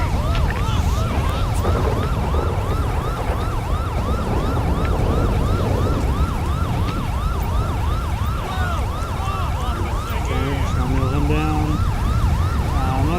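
A police or ambulance siren wails in the GTA V LSPDFR police game, a loud rapid up-and-down yelp repeating steadily over a rumbling engine before shifting to a quicker pattern near the end.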